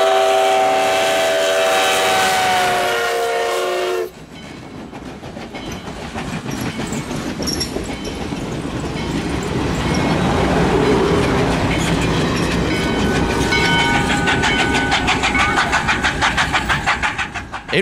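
The Sugar Express train passes close by, opening with a sustained horn blast, then a loud rumble of wheels and cars on the rails that swells and rattles on steadily.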